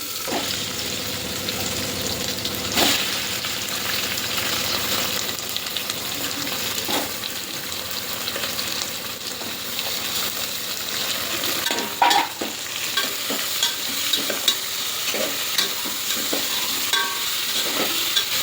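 Chopped onions fry in a spoonful of ghee and a little oil in a pan for a festive chicken dish, a steady loud sizzle with occasional stirring scrapes and clinks throughout, no voices.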